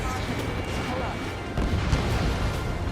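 Missile strike in the combat flight game Ace Combat 7, a dense sustained rumble of explosive impact and battle noise lasting throughout, swelling louder about halfway with a sharper crash, layered under game chatter.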